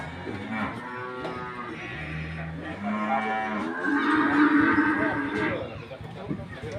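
A cow being checked by a vet after recovering from foot-and-mouth disease moos in several long, drawn-out calls close by, with people talking quietly in the background.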